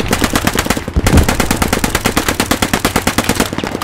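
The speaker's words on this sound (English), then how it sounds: "Putting suppressing fire out." Rapid suppressing machine gun fire in the World War II shooter Post Scriptum, a loud, close, sustained rattle of evenly spaced shots with only a brief gap, no voices over it.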